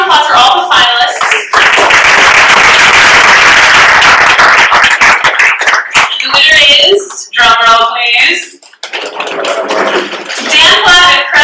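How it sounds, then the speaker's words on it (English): An audience at a data visualization awards event gives a burst of applause for the finalists, a dense wash of clapping lasting several seconds, with a person talking close by before and after it. "So, a big round of applause for all the finalists."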